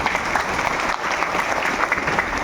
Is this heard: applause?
yes